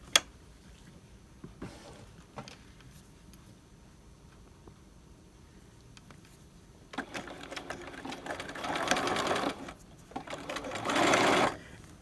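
A sewing machine runs a standard 2.5 stitch installing an invisible zipper close to the coil, starting with quiet handling clicks, then two loud stretches of steady whirring stitching that stop and restart.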